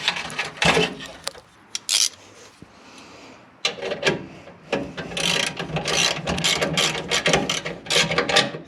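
A hand ratchet tightens an exhaust hanger on a Jeep Gladiator during a Flowmaster Extreme Outlaw exhaust install, giving close, rapid clicking bursts separated by brief pauses and rubbing metal sounds.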